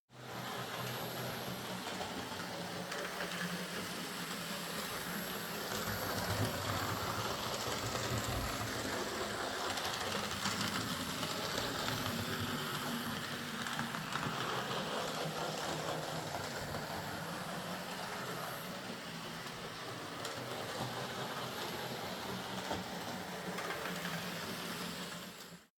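A secondhand model railway locomotive, a Triang Britannia rescued from the scrap box, runs steadily along its track with a continuous mechanical whir and rolling rumble throughout, fairly loud and without talk.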